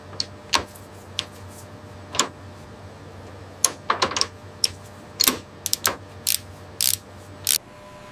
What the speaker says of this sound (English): As the torque tool secures the bolts